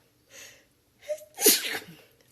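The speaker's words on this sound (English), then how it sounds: "Ooh, I have to sneeze." A single loud sneeze bursts out close by, following a brief intake of breath.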